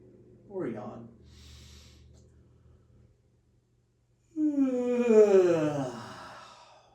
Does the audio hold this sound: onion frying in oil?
no